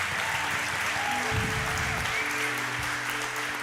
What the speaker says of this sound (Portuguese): Você pode aplaudir o Senhor pela vida da pastora Carla?